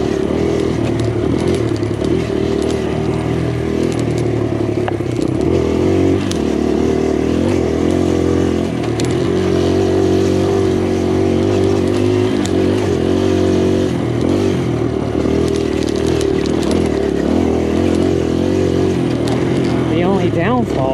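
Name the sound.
Kawasaki KLX140RF trail motorcycle riding flat out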